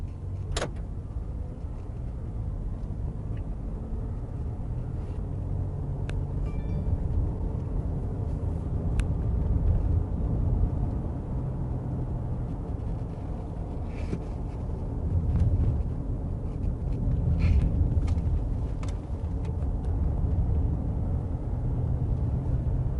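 Continental ComfortContact CC7 tires rolling on pavement in a moving car, a steady low rumble of road noise with faint wind, continuous and fairly loud throughout, with no talking.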